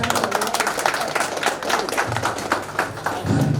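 An audience at a school stage function claps as a guest is invited up, a dense patter of many hands at moderate volume that continues steadily throughout.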